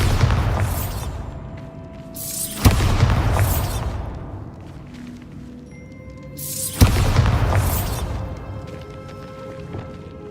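Bombarda spell blasts in the Hogwarts Legacy video game: two loud booming explosions several seconds apart, each with a sharp crack followed by a long rumbling decay.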